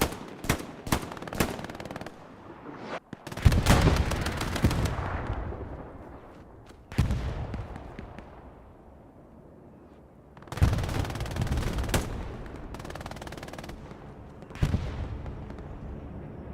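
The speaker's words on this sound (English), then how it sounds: "That sounds like a Syndicate bombing run with a airhead combo." Bombing run and bursts of gunfire in the WWII shooter Hell Let Loose during a competitive match, with repeated loud blasts and crackling volleys arriving in several waves, rolling rumble trailing between them.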